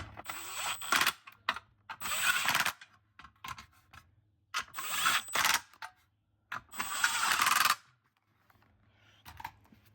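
Ratchet tightening the bolts on a front catalytic converter of an Acura TLX, bank 2, heard as several bursts of quick clicking separated by short pauses, close and fairly loud.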